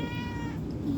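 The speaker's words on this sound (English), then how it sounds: "And my cat is here with us." A pet cat meows in a quiet room during a home yoga session: one drawn-out, tonal meow that fades after about half a second, close and clear.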